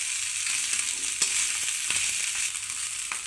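Vegetables for fried rice being stirred and fried in a hot pan: a steady, close, loud sizzle with scattered scraping and tapping of the stirring utensil, and no talking.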